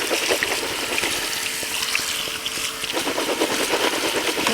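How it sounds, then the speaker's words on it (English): Canned pinto beans rinsed under a steady stream of cold tap water, a continuous close splashing trickle with faint clatter of beans throughout. "we're just going to rinse it in some cold water"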